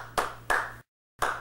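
Three sharp hand claps, two in quick succession, then a short silence before a third, close and clear with no talking.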